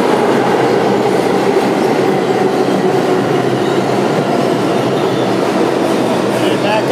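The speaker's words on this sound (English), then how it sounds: "Here comes my subway now." Subway train arriving at a station, a loud continuous rumble and rail roar with clattering wheels and faint squeal, steady throughout.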